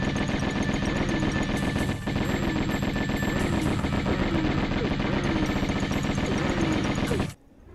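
Sustained Uzi submachine-gun fire in the video game Tomb Raider, a rapid, unbroken stream of loud automatic shots with a brief pause near the two-second mark, then cutting off abruptly before the end.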